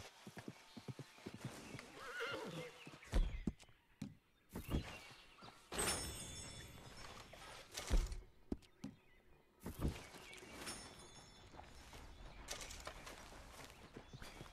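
Horses in Red Dead Redemption 2 neigh and whinny repeatedly while their hooves clip-clop in uneven bursts, fairly close and moderately loud, with thumps and faint outdoor ambience between.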